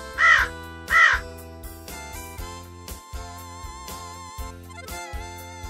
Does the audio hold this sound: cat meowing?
no